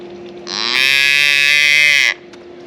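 A single long cow moo from cattle on a farm, loud and close, rising to a sustained bellowing tone for over a second before cutting off, with no talk over it.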